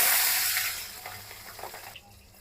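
Dried red chilli, bay leaf, five-spice seeds, chopped tomato and green chilli frying in oil in a pan, a loud close sizzle that settles as spoon stirs and small crackles come through, ending with a soft clink.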